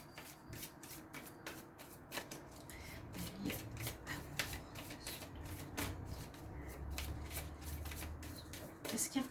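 Angel love tarot cards are shuffled and handled by hand in a quiet room: soft, crisp riffling bursts repeat in an uneven rhythm, with faint talking at times.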